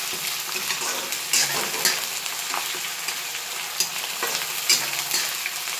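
Ginger-garlic paste fries and is stirred in a pan of hot oil for a jackfruit curry, giving a steady close sizzle broken by scraping stir strokes, with no talking.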